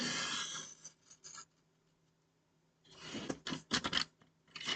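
Scissors snip through a stamped kraft paper sheet for a kraft envelope album, a few short crisp cuts at the start, a quiet pause, then a burst of close rustling snips and paper handling.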